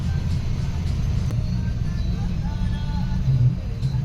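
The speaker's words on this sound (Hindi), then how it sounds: "इतनी भयंकर ट्रैफिक लगती है भाई दिल्ली में।" Heavy road traffic in Delhi, a dense low rumble of car and bus engines idling and crawling, steady and close throughout with no pauses.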